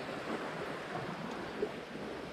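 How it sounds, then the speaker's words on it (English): Waves wash along a flood-scoured riverbank, a continuous soft rushing and churning of water that stays moderately loud and even throughout, with no one speaking. "I hope you can hear me for these waves."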